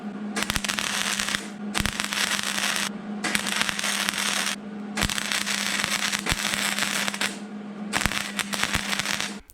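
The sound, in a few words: welding on a Mercury Sable station wagon rocker panel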